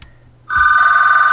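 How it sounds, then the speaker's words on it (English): After a brief quiet moment, a telephone bell suddenly starts ringing, loud and close, with a sustained bright trill that continues to the end. "That's a phone."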